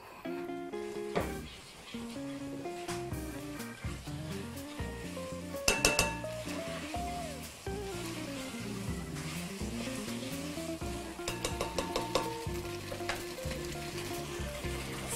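Spaghetti with clams sizzles in a pan over high heat, a continuous frying hiss broken by clinks of utensils against the pan and steady stirring, close and fairly loud with no talking.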